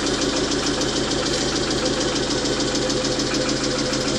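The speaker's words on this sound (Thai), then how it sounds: "อันนี้เป็นเครื่องยนต์อีสุมังกรนะครับ" An Isuzu diesel engine converted to run on LPG runs steadily at idle close by, a constant mechanical drone with a rhythmic knocking pulse and no talking.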